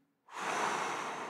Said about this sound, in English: So I'm gonna breathe in deeply.